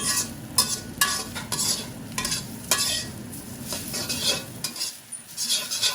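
Dried chillies and onion frying in oil in a pan for a Bengali iftar dish: a steady close sizzle with repeated clinks and scrapes of a utensil stirring against the pan, and no talking.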